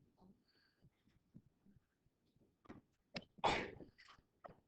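A single sharp sneeze bursts out in a quiet classroom during a maths review game, loud against the faint background, preceded and followed by soft scattered noises and low talk.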